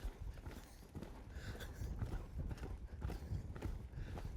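A horse's hooves clip-clop in a steady, moderately close rhythm on the ground during reining and cutting training with a colt working a cow, with no one speaking.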